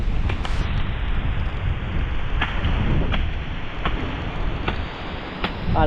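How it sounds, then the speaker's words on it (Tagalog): Strong typhoon wind and rain sweep over a banana harvest, a loud continuous roar of gusts buffeting the microphone with rain noise, broken by a few sharp brief knocks. "Malakas ang hangin."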